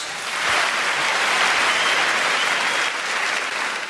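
A theater audience at a stand-up comedy show bursts into full, loud applause, a dense continuous roar of many hands clapping that swells early and stays strong to the end.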